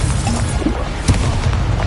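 Incendio fire spell cast in the Hogwarts Legacy video game, a dense, loud booming burst of flame and rumble sustained through the moment with a sharper crackling hit midway.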